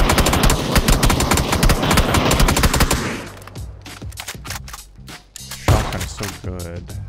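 Rapid bursts of gunfire in PUBG on Miramar, a dense loud barrage for three seconds followed by scattered single pump-shotgun blasts and thuds, sharp and close.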